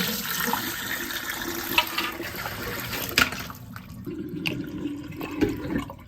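Water gushes and splashes as it is poured out of a container holding a rugged waterproof flash drive, rushing loudly at first, then trickling with a few sharp knocks.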